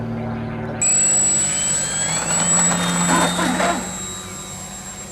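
Electric motor of an E-flite Eratix RC plane spinning up abruptly to a steady high-pitched propeller whine, holding near half throttle with slight pitch wavering, close and loud.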